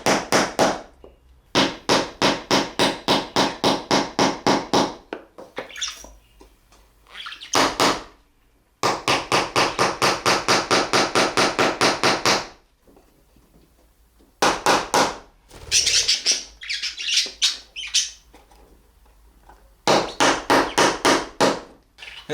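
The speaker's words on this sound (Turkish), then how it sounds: "Kestiğimiz dalları şu ince çivilerle birbirlerine sabitleyeceğim." Thin nails hammered into cut tree branches while a low-cost bird cage ladder is assembled, coming as close, loud bursts of rapid, even blows separated by pauses.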